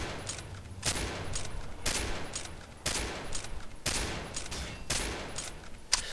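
M24A3 bolt-action sniper rifle firing in Combat Arms, six sharp loud shots spaced about a second apart, each with a short decaying tail, alone without talk.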